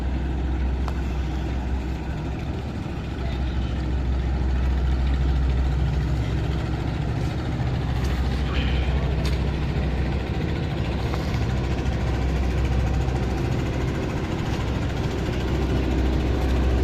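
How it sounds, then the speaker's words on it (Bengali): The engine of the Greenland 3 passenger launch ship drones loud and steady with a deep, continuous rumble that holds unchanged throughout. "জায়গা নেই, সেই জন্য সাইডে দিচ্ছে গ্রিনল্যান্ড 3 লঞ্চ জাহাজটি।"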